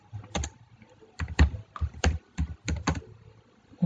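Code being typed on a computer keyboard, heard as close, distinct key clacks in small irregular clusters with short pauses between them, no voice present.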